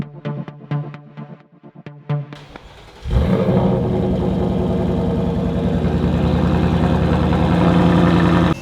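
A 2025 Ford Mustang GT V8 with a Borla S-Type valved exhaust cranks after a few clicks, then fires into a loud, close, steady, throaty idle with a deep rumble.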